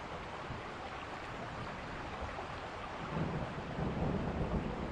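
A thunderstorm in the video game The Guest: steady heavy rain with a low thunder rumble swelling near the end, continuous and fairly full.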